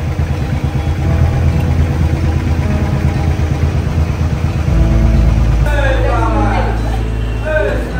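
Several vehicles, including cars, a motorcycle and a tractor, idle together at a Vishwakarma puja, a steady low engine rumble that swells as another engine joins partway through, with people talking nearby.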